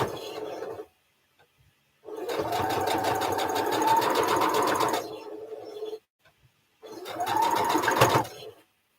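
A sewing machine runs two bursts while stitching the final seam of a quilt block, a steady whirring drone lasting a few seconds, then a pause, then a shorter burst, close and loud with no talking.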